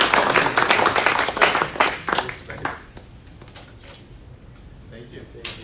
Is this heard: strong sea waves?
no